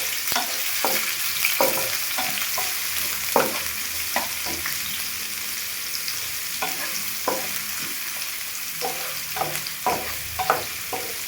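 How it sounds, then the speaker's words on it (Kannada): Onion fries in a pan for ragi shavige bath with a steady, close hiss of sizzling oil, broken by repeated scraping and stirring knocks of a spoon. "ಈರುಳ್ಳಿ ಹಾಕ್ತಾ ಇದ್ದೀನಿ. ಈರುಳ್ಳಿ ಚೆನ್ನಾಗಿ ಬಾಡಿಸ್ಬೇಕು."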